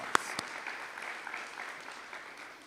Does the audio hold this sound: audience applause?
yes